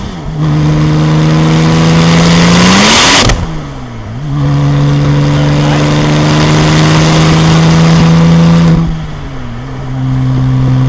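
A Porsche 996 Turbo Cabriolet with a six-speed gearbox pulls hard through the gears. The close engine note climbs steadily, drops sharply at each shift, then rises again in a second long pull, loud and without talk.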